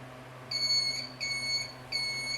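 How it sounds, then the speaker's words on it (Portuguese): A high electronic buzzer sounds in three steady bursts, each lasting about half a second to a second, over a quiet low hum. "buzzer e ele já faz barulho"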